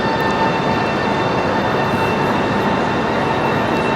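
A high-speed train at an Italian railway station gives a steady, loud broadband rumble and rush, continuous throughout with no talk over it.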